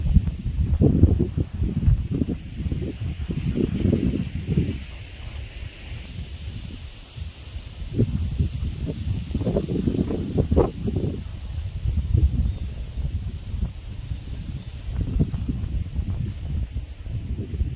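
Gusts of strong wind rise and fall, rustling and tossing leaves in surges with brief calmer lulls between them.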